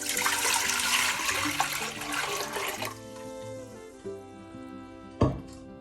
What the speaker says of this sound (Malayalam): അതിലേക്ക് ആവശ്യമുള്ള വെള്ളം ഒഴിക്കുക.